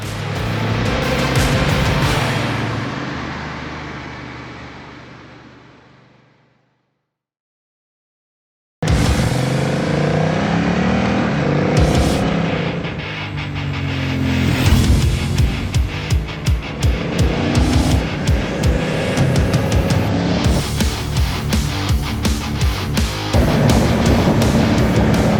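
Honda CMX 1100 Rebel motorcycle ridden through bends on a winding road, engine roaring and fading out, then after a short silence returning loud and close with rising and falling revs and wind rush.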